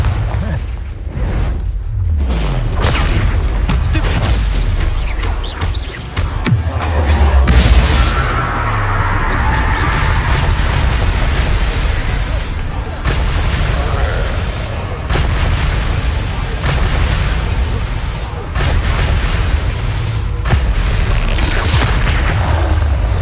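Repeated explosive Confringo spell blasts and booms from a Harry Potter video game, loud and dense across the whole stretch amid other spell effects, with a voice speaking over parts of it.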